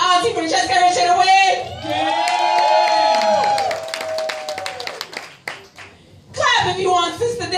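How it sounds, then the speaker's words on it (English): A party audience claps, cheers and whoops during a vote for favorite entertainment, with a loud sustained burst of applause and shouting, a brief lull, then another round of clapping and cheers. "Clap if this is your favorite entertainment of the night, please."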